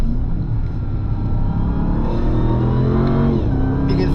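2024 RAM 1500 TRX pickup with about 700 horsepower accelerating at full power, a steady deep engine rumble heard from inside the cabin with pitch climbing through gear changes.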